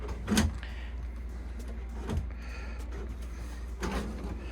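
Drawer inside a converted bus being opened and closed, giving three sharp sliding thumps spaced a couple of seconds apart over a quiet room.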